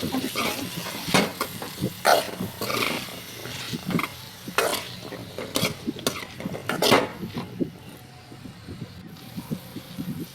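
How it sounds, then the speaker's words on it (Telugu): Chopped capsicum stirred into fried ginger paste in a pan, with a spatula scraping and clattering in repeated strokes up close, moderately loud and irregular, fading toward the end. "అలా వేగిన అల్లం ముద్దలో ముక్కలుగా కట్ చేసుకున్న క్యాప్సికమ్ని వేసుకుంటాం అలా వేసుకున్న తర్వాత కలుపుకుంటాం"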